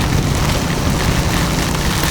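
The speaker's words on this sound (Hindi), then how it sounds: "I feel this is the extreme rains that I have ridden my bike in" Heavy monsoon downpour pounds while a motorbike rides through Mumbai streets, a dense, loud, unbroken roar of rain and rushing wind with no gaps.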